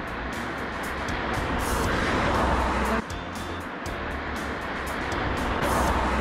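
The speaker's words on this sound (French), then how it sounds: "Dans les voitures, vous aurez fini de venir me perturber le son." Continuous road traffic noise with cars rushing past nearby, a steady whooshing rumble that swells and fades as vehicles go by.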